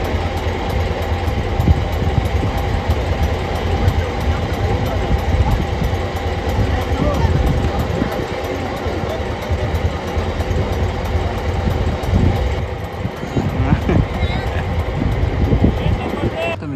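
A boat engine idles steadily during practice for a Kamalavati boat race on the Kundalika creek near Agraw, a constant low rumble that runs throughout with outdoor background noise and occasional voices.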